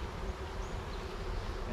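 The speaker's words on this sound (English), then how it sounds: "Can kind of get the bees to move." Honey bees buzzing during a hive installation, a dense, continuous close-up hum of many insects with no pauses and no talking.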